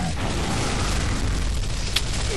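A bomb blast in Gears of War rolls out as a dense, low rumbling roar lasting the whole moment, with a short sharp crack near the end.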